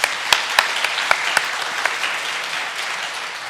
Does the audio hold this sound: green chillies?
no